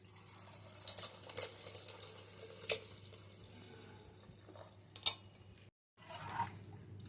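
Soaked tamarind water poured into a pot while making a tamarind stew, a faint running, trickling splash with small drips and a short break near the end.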